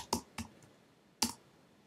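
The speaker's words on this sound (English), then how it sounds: "I'll type in Ninja." Taps on an iPod Touch's on-screen keyboard while a search is entered: three short, sharp clicks, two close together and one after a pause, quiet and alone.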